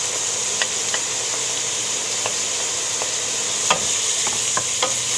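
Chopped garlic, two cloves, sizzling in a pan with onions while being stirred, a steady frying hiss throughout with several sharp clicks and scrapes of the utensil against the pan, close and moderately loud, no talking.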